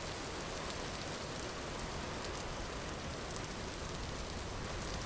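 Rain falls in the survival game Vintage Story as a faint, even hiss of drops with no breaks, heard on its own without voices.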